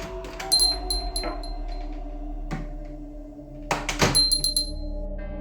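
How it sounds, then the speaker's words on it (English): A shop door's chime jingles in two bright bursts as the door opens, mixed with dull thunks and knocks of the door moving in an otherwise quiet room. "The door chime jingles."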